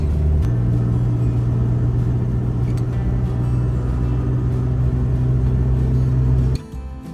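A car climbs over the Gibraltar Range in New South Wales, its engine making a steady low rumble that continues for several seconds before the sound drops away abruptly near the end; no one speaks.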